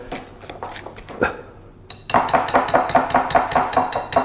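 A kitchen bowl being handled and covered while making spicy pizza dough, with a run of close, sharp clinks and knocks of dish and cutlery, a brief pause, then a steady rapid series of clattering taps.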